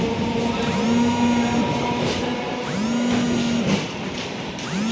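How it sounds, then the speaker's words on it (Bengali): Two trains cross and pass at Madhampur railway station, making a loud, continuous rolling rumble. A rising whine repeats every couple of seconds over it. "দুটো ট্রেন ক্রসিং করে চলে যাচ্ছে"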